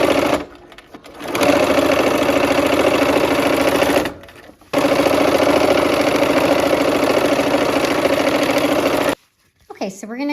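A sewing machine stitches quilt blocks together in loud, steady whirring runs, pausing twice briefly, then stops near the end as a person begins talking.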